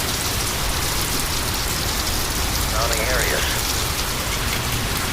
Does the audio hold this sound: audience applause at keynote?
no